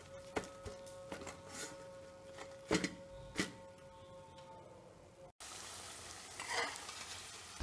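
Sukhiyan dumplings frying in hot oil and being turned: quiet scraping and tapping strokes in an irregular pattern, then a soft, steady bubbling hiss of oil.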